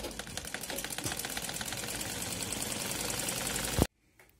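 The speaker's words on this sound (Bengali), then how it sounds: "সোজা দিক থেকে সেলাই দিচ্ছি।" A sewing machine runs steadily, stitching a thin seam along the right side of fabric cut from an orna to make a dress, with a fast mechanical chatter that stops abruptly near the end.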